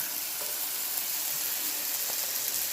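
Bacon sizzles and crackles steadily as it fries in a pan, a fairly quiet, continuous hiss with occasional small pops and no talking.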